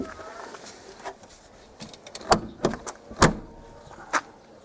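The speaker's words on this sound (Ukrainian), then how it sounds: "Ось Послухайте, як ляда закривається." A few dull mechanical clunks and a solid thump as a ZAZ Tavria's rear hatch swings shut, moderately close, with faint background noise.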